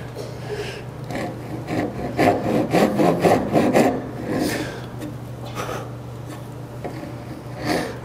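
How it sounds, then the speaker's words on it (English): A hand saw rasps through wood with repeated back-and-forth strokes while a kerf is started inside a marked line, moderately loud with a steady low hum underneath and no talk. "I'll establish the kerf and make sure that kerf is where I want it to be. And then let that kerf guide the rest of the saw on the way down."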